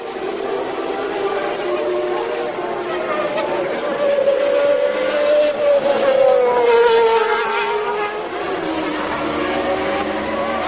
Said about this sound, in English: Nothing in it between Senna in the McLaren Honda and Mansell in the Williams Renault